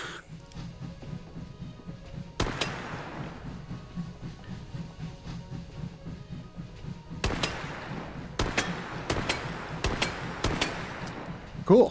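Gunfire in the VR shooter Hot Dogs, Horseshoes & Hand Grenades: a few sharp single shots, then a quick cluster of cracks near the end, over a steady low game hum.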